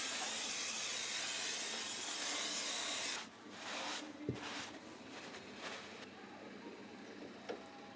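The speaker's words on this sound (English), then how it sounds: "clean the braking system with Würth Brake Cleaner to remove dangerous" Würth Brake Cleaner sprays onto a car's braking system in a loud, continuous hiss lasting about three seconds. Quieter rubbing and handling noises follow.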